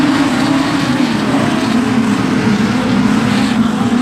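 Production sedan race cars roar around the dirt oval at Kingaroy Speedway, a loud, continuous engine drone with a strong low growl that holds steady throughout, no voices audible over it.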